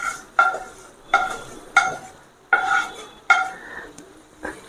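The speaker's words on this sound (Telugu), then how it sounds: "గోంగూర యాడ్ చేసుకున్న తర్వాత కొంచెం కలుపుకోవాలి మళ్ళీ మనము" A spoon stirs fried gongura leaves into chicken curry in a pan, with about six sharp scraping clinks against the metal in a slow, steady rhythm over a faint sizzle, close and clear.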